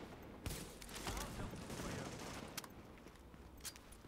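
Rapid bursts of automatic gunfire ring out in the video game Tom Clancy's The Division, a dense fusillade with sharp individual shots, fairly faint overall.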